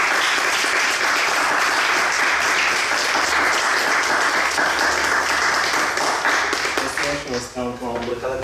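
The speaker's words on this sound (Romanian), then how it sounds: "aș mai vrea să dăm încă un rând de aplauze pentru Ileana" A theatre audience at a screening in Turda claps for director Ileana, producing sustained, dense applause that stays loud for most of the stretch before a voice starts speaking over the last second or so.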